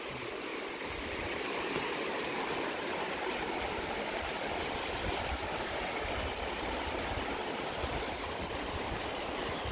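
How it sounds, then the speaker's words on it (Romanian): A river flows steadily beside a cabin deep in a forest, a dense, continuous rushing and gurgling of water that stays close and constant throughout, with no voices. "Are râu aproape."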